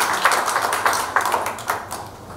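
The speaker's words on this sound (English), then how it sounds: "a round of applause again for him." Applause from a panel-discussion audience in Mumbai for the chief fire officer, a steady wash of clapping with a few sharper bursts, close and moderately loud throughout.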